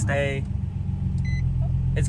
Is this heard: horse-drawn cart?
no